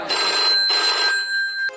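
A telephone rings twice in electronic bursts with a clear steady tone, followed by a short click; no voices.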